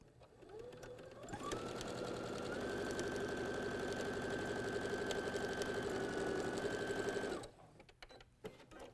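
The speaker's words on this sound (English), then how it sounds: "I've stitched down one side," A sewing machine runs steadily for about seven seconds, stitching down one edge of a fabric triangle for a migrating geese quilt block, then stops and leaves a few faint handling noises.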